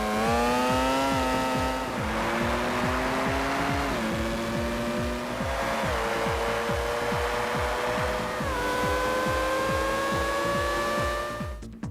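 A Formula One car engine from the PlayStation 2 racing game Formula One 2001 screams loudly and continuously, its pitch climbing and then dropping sharply at each gear change through repeated upshifts, with no talking.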